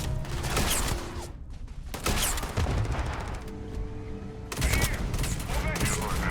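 Rifle fire in an online shooter video game comes as sharp bursts of loud shots with mechanical clatter in between, and a player's voice talks over parts of it.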